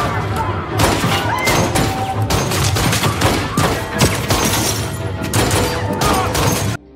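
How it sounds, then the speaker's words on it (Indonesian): Rapid gunfire fills a hotel shootout scene in a film, dense overlapping shots and bursts running loud and continuous for the whole stretch, with the shots crowding close together. "Baku tembak pun terjadi."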